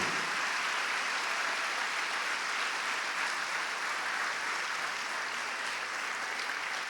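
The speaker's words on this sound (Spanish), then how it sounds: "dale fuerte ese aplauso al Señor" A church congregation applauding during a Sunday service, a dense, even wash of clapping from many hands that holds steady and loud throughout.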